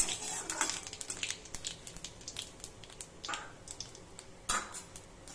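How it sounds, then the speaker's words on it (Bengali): Cumin seeds and bay leaves being stirred in hot oil in a pan, soft scattered scrapes and clinks of a spoon against metal, fairly quiet and close. "একটু নেড়ে নিচ্ছি, হালকা হালকা করে নেড়ে নিলাম"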